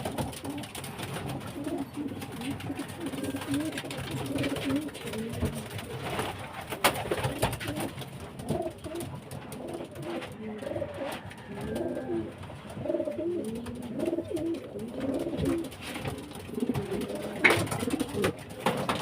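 Pigeons coo repeatedly in soft, throaty rolls, several birds overlapping steadily throughout, with faint rustling in the background.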